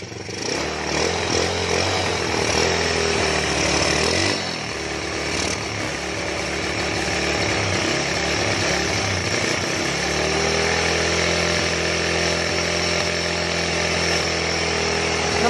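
An engine that had sat unused for five months runs loudly close by, buzzing with uneven revving surges and dips before settling into a steady, rough idle.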